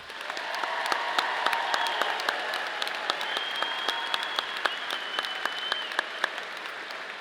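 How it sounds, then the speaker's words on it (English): Crowd at a Colorado State University engineering commissioning and graduation ceremony applauding steadily and loudly, with dense sustained clapping and sharper individual claps standing out, plus a tonal hum running beneath. "Let's give these newest officers a round of applause."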